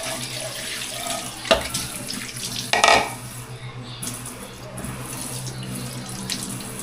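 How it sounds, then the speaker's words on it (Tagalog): Salted milkfish (bangus) rinsed under running tap water in a container, a steady faucet stream and splashing with a couple of louder sloshes and clinks near the start, no talking. "Hugasan natin yan kasi may mga asin."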